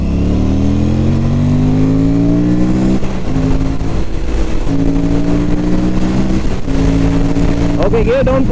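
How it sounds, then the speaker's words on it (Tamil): An Aprilia RS 457 motorcycle engine braking while downshifting, heard close and loud as a steady, buzzing engine note whose pitch falls and steps through gear changes, with a brief rising blip near the end. "அதே மாதிரி ஃபைனலாக இன்ஜின் பிரேக்கிங்கும் பார்த்துருவோம்"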